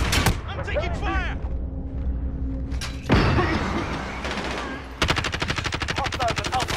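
Dense automatic gunfire in a Call of Duty Modern Warfare multiplayer match, loud rapid bursts and shots close by, with in-game voices calling out over the shooting.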